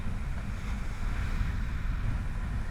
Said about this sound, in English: when you're faced with a situation like this where it's a strong onshore wind and it's rough